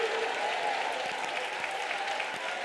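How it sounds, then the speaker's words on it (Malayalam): A congregation claps steadily in praise during a Sunday service at a Pentecostal prayer centre in Thiruvalla, a dense, even wash of many hands with no pause and no speech over it. "കൈയടിച്ച് ഉറക്കെ ദൈവത്തെ സ്തുതിച്ചാട്ടെ"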